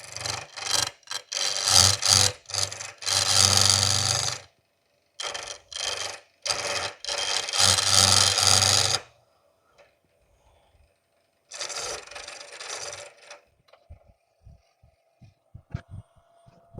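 A wooden pen blank spun on a lathe under a turning tool gives harsh scraping, rasping bursts in several close passes, loud and near, then pauses of near silence before a shorter final pass.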